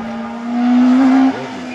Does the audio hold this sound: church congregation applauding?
no